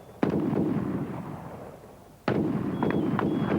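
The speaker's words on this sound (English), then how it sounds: "Covering fire." Gunfire in the video game Combat 90 rings out as two sharp, loud blasts, each followed by a long rumbling decay, with a few smaller pops trailing the second burst.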